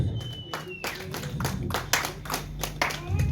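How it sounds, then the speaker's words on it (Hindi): A small group at a Tiranga musical housie game claps in scattered, separate bursts, fairly faint and uneven, with a low background hum and some voices underneath. "तो एक बार जोरदार अपने लिए तालियां बजाइएगा।"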